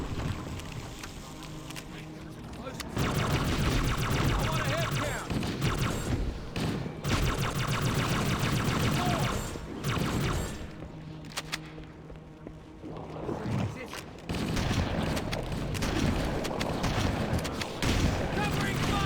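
Sustained gunfire in Halo CE, a busy stretch of repeated weapon fire and combat noise at moderate level that runs almost the whole time, with voices speaking over it.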